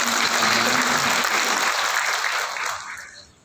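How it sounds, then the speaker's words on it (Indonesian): Dense audience applause fills a university graduation ceremony hall, loud and steady at first before thinning out and fading over the last second. "Tepuk tangan Bapak Ibu."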